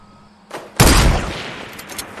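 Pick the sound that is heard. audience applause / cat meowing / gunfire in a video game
gunfire in a video game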